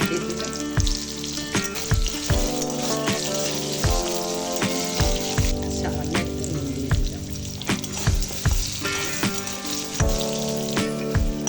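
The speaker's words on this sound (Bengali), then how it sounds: "তেল দিলাম আলুগুলো ভেজে নেবো সামান্য একটু করে" Potatoes frying in hot mustard oil give a dense, steady sizzle dotted with sharp crackles and popping spatters, close and fairly loud with no talking.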